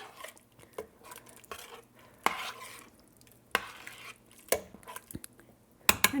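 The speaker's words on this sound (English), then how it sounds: "we'll stir that around a little bit" Kale stirred around in a pan, with a spoon or spatula knocking and scraping against the metal in irregular clanks, some sharp and loud, over a faint background sizzle.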